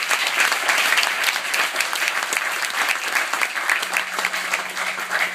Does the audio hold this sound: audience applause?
yes